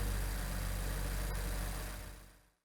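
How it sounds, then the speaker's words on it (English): A car engine idles steadily with a low, even rumble during a fuel pressure check on the low side supply, then cuts off abruptly near the end. "Start the engine"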